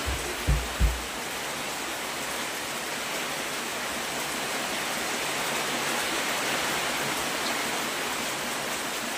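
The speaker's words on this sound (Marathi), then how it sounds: "बाहेर पाऊस" Rain falling outside a village home, a steady, even hiss that fills the whole stretch, with a few low knocks at the start and no voices.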